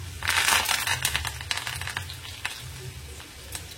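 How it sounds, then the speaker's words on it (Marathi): Mustard seeds crackling and popping in hot oil for a dal tempering, a close, dense sizzle with rapid irregular pops that is loudest at first and then eases slightly. "मोहरी तडतडली."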